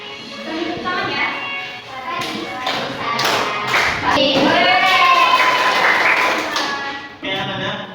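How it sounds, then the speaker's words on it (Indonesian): Children in a classroom clap their hands together in a steady, close pattern of taps and thumps, with young voices singing along over the clapping throughout. "Tepuk tangan ya."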